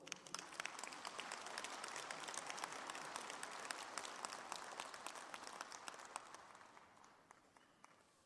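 Applause from the audience fills a university graduation ceremony hall, a broad, even wash of many hands clapping at a distance that swells and then gradually fades away.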